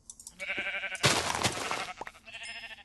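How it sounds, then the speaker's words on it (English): Sheep bleat in a blocky survival video game, several wavering cries close by, broken by a loud burst of thumping impact noise in the middle. "kill a couple of sheep."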